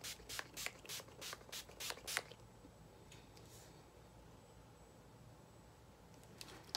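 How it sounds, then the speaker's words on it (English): Seven or eight quick, hissing spritzes of makeup setting spray onto a face, in a fast rhythm, close by, then quiet with a couple of faint later puffs. "so I'm gonna spray my face really good."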